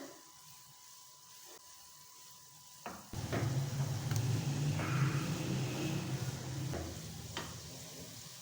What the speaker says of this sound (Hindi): तो ये बहुत आसान तरीका है गुलाब जामुन को फ्राई करने का